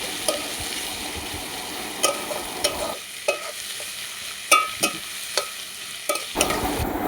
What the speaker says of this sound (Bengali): পেঁয়াজ কুচিটা আমি ভালো করে ভেজে নিচ্ছি।